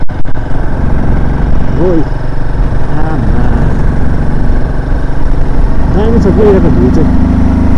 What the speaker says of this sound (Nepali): बाइकले पनि राम्रो पिकअप दिएको छैन